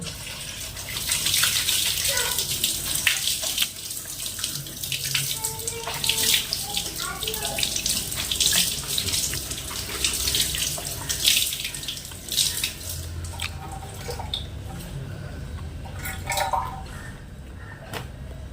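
Water from a kitchen tap runs steadily while an oily cloth napkin is scrubbed and sloshed underneath it, close and continuous with occasional splashes and drips.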